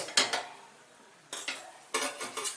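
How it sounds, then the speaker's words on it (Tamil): A spoon scrapes and clinks against a metal pan, stirring jaggery into water in three short bursts separated by brief pauses. "இந்த வெள்ளத்தை நல்லா கரைச்சிக்கணும்"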